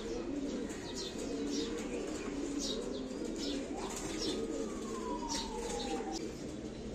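Homing pigeons returning from a 27-kilometre release flight coo and flap their wings as they land. A thin, siren-like tone sweeps faintly through the distance over constant background noise.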